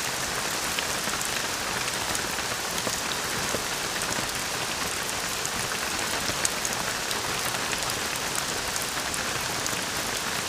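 Heavy rain falls steadily and densely, a continuous loud hiss of drops striking surfaces, with no talk or other sounds.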